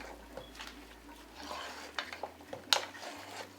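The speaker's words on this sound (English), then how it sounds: "Mix until it's well blended into it." Isi Ewu ingredients for goat head are stirred and mixed in a bowl, giving soft scraping and light clinks with one sharper knock near the end. The sound is faint and close, with no talk.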